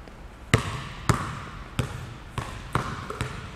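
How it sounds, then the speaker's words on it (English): A basketball dribbled in a youth beginners' drill, about seven firm bounces at a steady, slightly quickening pace over quiet background room noise, with no one speaking. "let's try and dribble a little harder"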